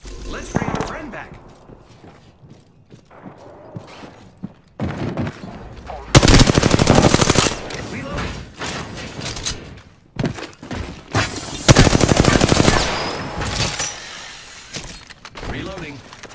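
Gunfire in the video game Apex Legends comes in loud bursts, with rapid automatic fire in two long volleys and scattered single shots and thuds between them.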